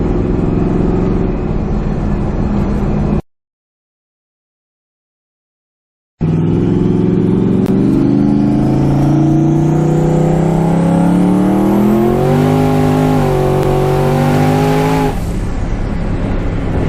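Loud race car engine on a track, heard from inside with friends riding along, roaring steadily and climbing through the gears in rising sweeps. It cuts out completely for about three seconds, then returns, with no talk over it.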